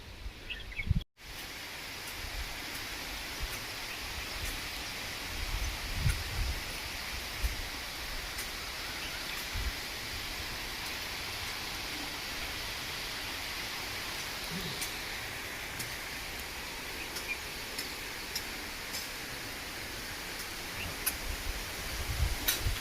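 Light rain drizzles over an open farm field, a steady, soft, even hiss that carries on for the full length with faint scattered ticks and rustles and no voices.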